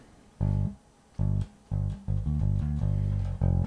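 Bass guitar playing short melodic flourishes around D, a series of plucked note clusters with brief gaps between them, close and alone without any talk.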